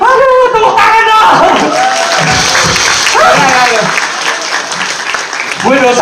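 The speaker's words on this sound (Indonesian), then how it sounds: "tepuk tangan dong" Scattered clapping and crowd noise during a Betawi rap performance about a bajaj, loud and close, mixed with shouts and voices over the top.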